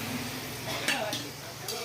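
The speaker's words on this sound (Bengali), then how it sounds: "আলুটা একদম লাল লাল করে ভাজা হয়ে গেছে" Potatoes fry in a pan with a steady sizzle, broken by a few scraping stirs and light clinks of a utensil against the pan, with no speech.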